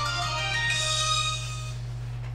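An incoming call rings on a phone in the video game Hitman: Blood Money, a short tonal ringtone over a steady low hum, moderately loud and without talk.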